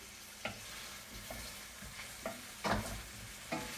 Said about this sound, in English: now you can see I have the red pepper and the carrots sauteing